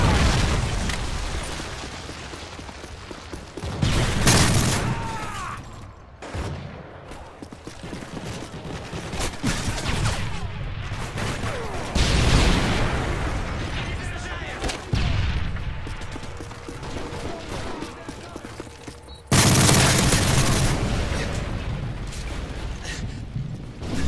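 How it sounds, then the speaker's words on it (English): Heavy Predator missile explosions and bursts of gunfire from a Call of Duty MW3 multiplayer match pound in repeated loud booms and rattling volleys, with brief lulls between blasts. "Friendly Predator missile inbound."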